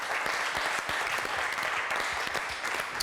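A studio audience on a cooking competition show claps for the jury's favourite contestant, a brief, even burst of steady applause at moderate distance.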